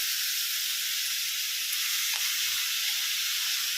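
Potatoes, cauliflower and other vegetables sizzling steadily in a hot pan as they are sautéed, a continuous close frying hiss with faint stirring, no talk.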